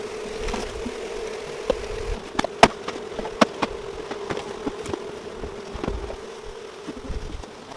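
Honey bees buzz as they are scooped from a feeder into nucleus colonies, a steady droning hum with sharp intermittent taps and knocks from the handling.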